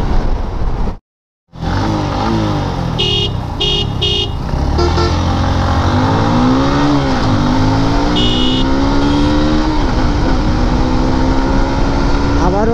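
A Honda Hornet 160 and a Gixxer Fi ABS motorcycle race from 0 to 100, their engines loud and close, revving with repeated rising pitch sweeps as they pull through the gears.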